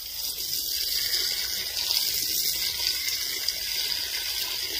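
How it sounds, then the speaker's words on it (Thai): Water pours steadily onto potted plants in a temple pavilion ahead of washing the floor, a continuous close splashing gush with a faint pump-like hum beneath and no talk. "ใช้น้ำสักหน่อยป้ารดก่อนที่จะล้างพื้นศาลานะคะ"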